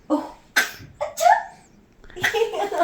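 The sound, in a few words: cough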